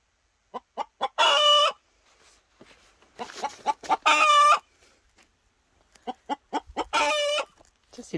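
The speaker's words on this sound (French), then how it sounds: "Ça, c'est le bruit d'une poule qui pond." A hen cackling loudly after laying an egg on a small farm, three bursts of rapid clucks that build into long harsh squawks, close and clear with short pauses between them and no talking.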